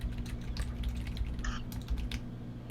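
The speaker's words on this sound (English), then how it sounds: "I don't even want to know what you're furiously typing." Rapid, furious typing on a computer keyboard, a dense run of sharp key clicks close to the microphone with no talking over it.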